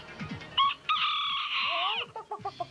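Rooster crowing with chickens clucking in a South Florida city neighborhood, a loud sustained crow rising over short clucks and cackles, then a burst of rapid clucking at the end.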